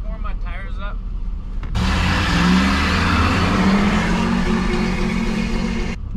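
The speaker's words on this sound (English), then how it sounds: "I can warm my tires up" A car revs hard while warming its tires for a drag race, a loud sustained engine roar after a brief stretch where someone talks over a lower idle, ending abruptly.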